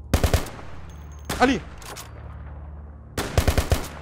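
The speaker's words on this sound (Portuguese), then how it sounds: "Calma, eu vou dar uns tiros. Também vou atirar." Rapid bursts of automatic gunfire in Minecraft crack close and loud, pause while someone briefly shouts, then another burst follows.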